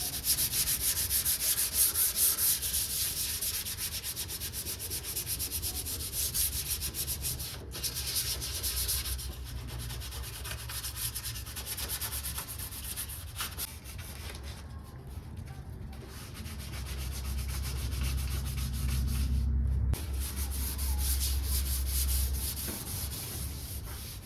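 Hand sanding block scrubbing the primed body of a 1979 Plymouth Volare wagon, a continuous close, loud rasping rub in steady back-and-forth strokes, with brief pauses.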